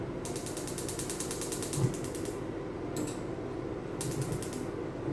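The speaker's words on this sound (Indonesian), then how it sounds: "Kita nyalakan kompor dulu." Gas stove being ignited in an indoor kitchen, a rapid run of ratcheting igniter clicks followed by two shorter bursts of clicking, close and alone over steady background hiss.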